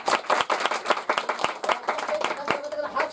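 Audience members at a comedy match event clap to vote for the performer they enjoyed, a dense, steady patter of many hands with a voice speaking over it toward the end.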